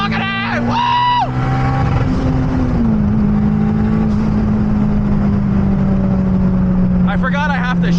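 A turbocharged Honda K24 engine drones loudly and steadily inside a car, with rising whines and pitch sweeps at the start and end over a constant rumbling roar.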